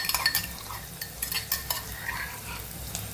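Onion with ginger, chilli and garlic paste sautéing in a pan, with a quiet sizzle under repeated scraping and clattering strokes of a spoon stirring against the pan, busiest at the start.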